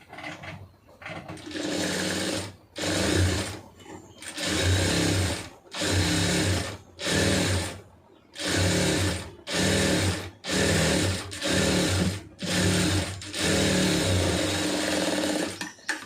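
A sewing machine stitches a large sleeve in a run of about a dozen short bursts of loud mechanical whirring, each stopping abruptly before the next begins.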